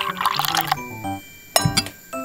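Water pours and clinks into a small bowl of cake batter for a miniature KitKat chocolate cake, a short trickle followed by glassy clinks and a brief splash, close and clear with no talk.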